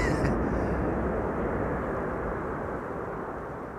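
An airliner landing at Amsterdam Schiphol gives off a loud, broad roar of reverse thrust that holds steady and then slowly fades, with no talking.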